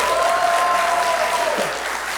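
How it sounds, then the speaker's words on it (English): A comedy show's live audience applauds loudly, a thick continuous roar of clapping that stays strong and then eases slightly toward the end, with a faint tone beneath it early on. "Give yourselves a round of applause."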